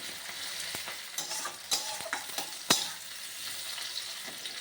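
Meat with onion and ground spice paste frying in a pan, stirred with a utensil: a steady close sizzle broken by irregular scraping clacks and knocks, with no talking.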